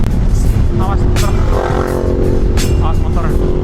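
A motorcycle on a road passes close by with a loud engine drone and revving, heard from a riding touring group. Other traffic noise and wind rush sit under the engine the whole time.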